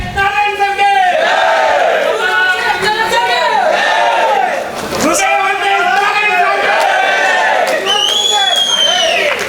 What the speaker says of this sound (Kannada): ಜೈಕಾರ ಕೂಗಕ್ಕೆ